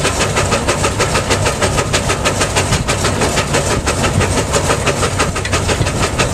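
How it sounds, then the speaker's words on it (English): A steam engine at a plowing demonstration chugs in a steady, rapid rhythm of clanking beats over a dense mechanical rumble, loud and continuous from start to end. "there is a demonstration of plowing with a steam engine"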